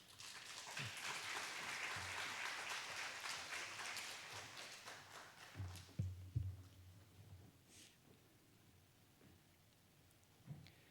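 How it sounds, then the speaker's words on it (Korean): Church congregation applauds in welcome as a pastor comes forward, a full, steady clapping that thins out midway and fades to scattered claps and quiet room sound. "우리 나오실 때 귀하게 우리 박수로 환영해 주시기 바랍니다."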